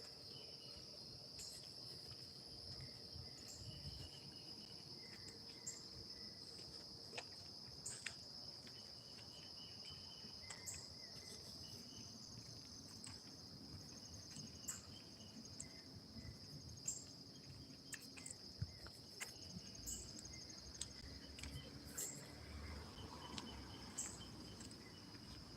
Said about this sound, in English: I don't know if you guys can hear the crickets.